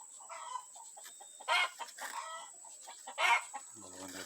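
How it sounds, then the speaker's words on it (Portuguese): Farm chickens cluck and squawk close by in the shade of a tree, several loud bursts over a steady high bird call in the countryside. "Atrás as galinhas."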